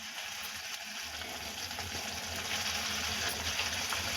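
Water pours steadily into a clay pot with a continuous gushing splash, close by and moderately quiet, with no talking.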